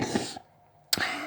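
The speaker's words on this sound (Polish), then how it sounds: "jak pewnie słyszycie, że ja smarkam" A person with a runny nose from a cold gives two sharp, close nasal sniffs, the first longer, with a brief quiet gap between them.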